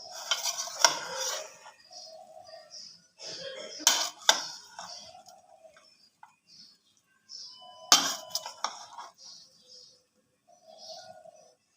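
Chutney ingredients with green chilli mixed in a bowl, a spoon scraping and clinking against the bowl in short bursts with quiet pauses between them.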